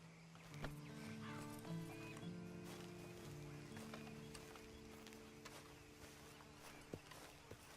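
A horse in Red Dead Redemption 2 walks with soft, faint clip-clopping hooves, set against sustained musical tones and quiet ambience.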